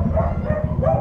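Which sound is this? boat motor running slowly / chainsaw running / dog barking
dog barking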